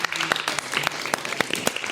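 An audience applauds an actor after a film screening, a lively burst of many hands clapping with sharp individual claps popping through.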